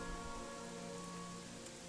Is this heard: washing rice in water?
no